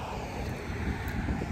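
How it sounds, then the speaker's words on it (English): Steady wind rushes and buffets the microphone during an outdoor walk through a quiet residential neighbourhood, a constant close roar with no talking. "It is a little bit windy, but it's not hot at all."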